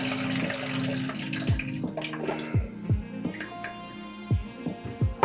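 Water from a toilet tank gushes and splashes into a bucket as the fill valve is pulled up, with a running pour and several distinct drips and plops, fairly faint.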